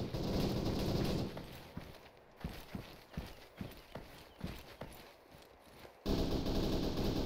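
Gunfire in a squad firefight as a base of fire is laid down, a rapid series of sharp reports punctuating heavy background noise, with bursts of loud rumbling at the start and end.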